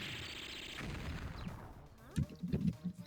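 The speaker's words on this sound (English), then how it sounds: "Sounds like... Gunshot! Oh no, they're attacking the city!" Gunfire rings out around the city in Mega Man Legends, a dense burst of crashing shots that fades into a handful of separate, punchy reports, with a voice speaking faintly beneath.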